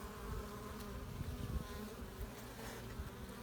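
Honey bees hum in a dense, steady buzz around an opened hive during a queen rearing check, a close continuous swarm drone with no talk.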